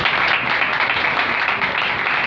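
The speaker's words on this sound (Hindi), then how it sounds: "उनके लिए जोरदार तालियां बजाएं।" Enthusiastic applause from a church congregation during a worship service, dense continuous clapping filling the room steadily for a couple of seconds with no talk over it.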